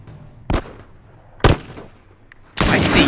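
Gunfire in The Last of Us on PS4: two sharp single shots about a second apart, then a louder, sustained burst of firing, near and without talk.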